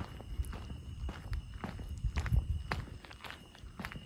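Footsteps on a cleared dirt path at night, a steady walking rhythm of soft crunching steps, close and fairly quiet, with no talking.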